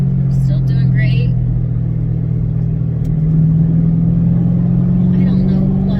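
A Ford Mustang GT test-driven as a future NASA Spec Iron race car gives a loud, steady, low engine drone from inside the cabin while someone talks over it.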